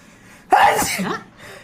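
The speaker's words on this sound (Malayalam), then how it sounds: "നീ എന്തിങ്ങനെ തുമ്മുന്നേ?" A person sneezes after sniffing punchipodi powder, one sudden loud sneeze up close with a short tail. A faint sound follows it.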